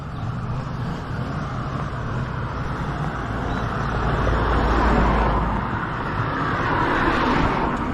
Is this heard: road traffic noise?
yes